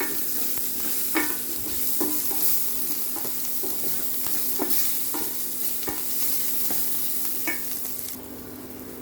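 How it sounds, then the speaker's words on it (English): Sliced ginger fries in a pan for a chicken curry, a steady broadband sizzle with scattered stirring scrapes and clicks running throughout, close and moderately loud, with no talking. "with the same pan, let's fry our ginger, sliced ginger."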